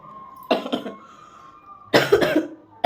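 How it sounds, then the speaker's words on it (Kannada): A person coughing at home, two separate harsh bursts of several rapid coughs each, close and fairly loud, with quiet pauses between and no talk. "ಅಮ್ಮ ಏನ ಮಾಡ್ರೆ ಕೆಮ್ಮು ಹೋಯ್ತಾನೆ ಇಲ್ಲ."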